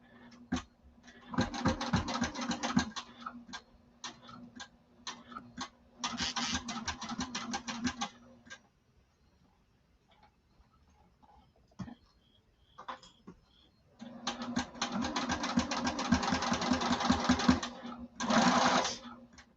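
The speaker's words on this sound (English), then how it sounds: "Longest stitch on your sewing machine." Sewing machine running on its longest stitch along the exterior of a duffle bag, fast rhythmic needle bursts in several runs broken by pauses with small handling clicks and a voice speaking between them.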